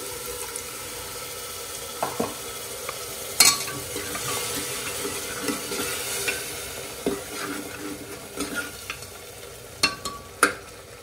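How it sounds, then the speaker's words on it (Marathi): Ground wet masala paste for a chole gravy stirs and sizzles in a pan, with steady low frying hiss, scraping spoon strokes and occasional sharp clinks, close and moderately loud with no talk. "आपले मसाले साधारण 1-3 मिनिटं भाजून घेऊया।"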